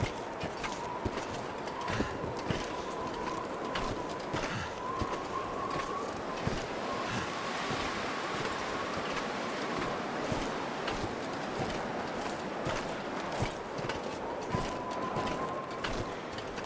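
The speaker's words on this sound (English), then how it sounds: "The wind's not helping though." Wind blows steadily through a snowy survival game landscape, a constant broad whooshing rush with gusty swells and faint clicks, sustained without voices.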